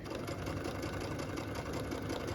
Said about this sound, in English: Sometimes you gotta do a little bit of adjusting and then continue stitching.